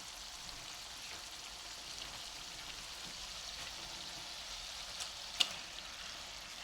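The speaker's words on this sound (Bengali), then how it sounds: "আমি চিকেনটা অ্যাড করে দিলাম দিয়ে একটু সুন্দর করে নেড়ে দিচ্ছি" Boneless chicken stirred into a cooked-down spice masala, giving a steady soft sizzle with faint scraping stirs and one brief sharp clink near the end; no talking.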